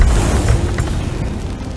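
A loud, rumbling explosion in Sea of Thieves with dense crackling noise that stays heavy and sustained, slowly easing off.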